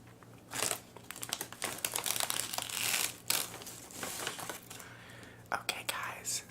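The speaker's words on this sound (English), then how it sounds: "I'm going to move on to these chips and I'm going to try to be very quiet because the bag is very loud" A bag of chips is opened and handled with loud, close crinkling and crumpling bursts, coming in irregular waves alongside soft whispering.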